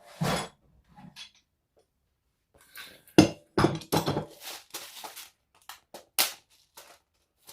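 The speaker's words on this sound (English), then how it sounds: "let's just get my rivets and my rivet press out. I'll be putting silver rivets in." A hand rivet press sets silver rivets on a sewn bum bag, producing sharp metallic clinks and thunks in irregular bursts, with a few softer handling rustles between them.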